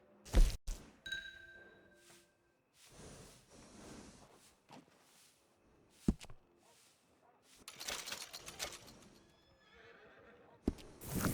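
A horse whinnies and snorts in the Red Dead Redemption 2 video game, with several loud neighs spread across the span alongside hoof thumps and clip-clop, mixed with game sound effects and no talk.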